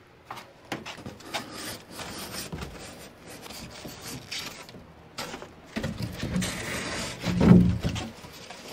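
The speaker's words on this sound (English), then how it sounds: "let's slide the insulation over. I have it under this carpet." Insulation is slid across the floor under carpet in a camper van, giving a steady rubbing, scraping drag that swells to a louder push near the end, with no talk.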